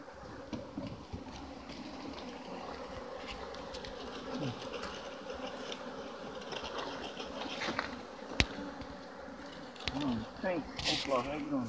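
Italian honey bees buzz in a steady, dense drone around a hive being captured outdoors, continuous and fairly close, with brief voices and handling noises toward the end.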